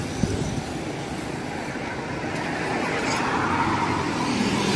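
A car passes along a street in Barrio Barretto, an area that floods during heavy rains, as a steady broadband roadway rush that swells slightly toward the end, with no one speaking.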